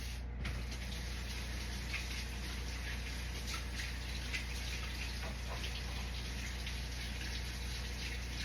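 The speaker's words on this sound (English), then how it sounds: "I had to wash my hands" Tap water runs in a steady, even stream while hands are washed under it at a kitchen sink, partway through kneading a floury dough, a continuous close splashing gush with no talking.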